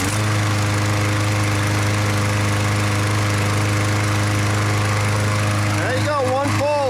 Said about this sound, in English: Just gonna let it run for a little while.